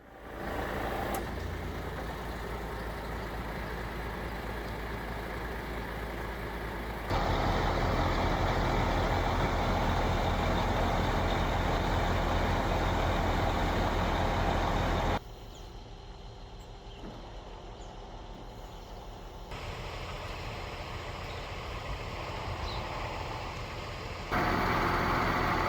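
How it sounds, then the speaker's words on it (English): A delivery truck arrives at a roof renovation site, its heavy engine rumbling steadily at close range in sections of changing loudness, with a hiss like an air brake and idling. "the delivery truck arrived just as I was starting."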